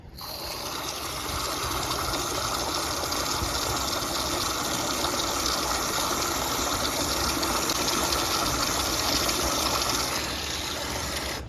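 Steady, loud hissing gush of compressed air and moisture water blowing out of an air compressor tank's drain valve, continuous for several seconds before cutting off, over a running engine hum with no speech.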